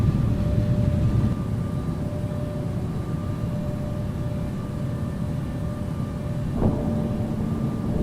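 Airliner engines in the Infinite Flight simulator hold a steady low roar for the takeoff roll, with a faint tonal whine on top and one brief click partway through.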